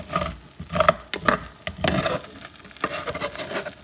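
Ground beef and rice are stirred in a pot, with a few soft scrapes and lifts of a spoon over a low sizzle, close and brief.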